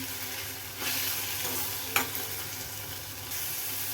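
Garlic chutney with a little tomato fries in a steel pan, a steady close sizzle broken by scraping stirs and one sharp clink of the spoon against the metal.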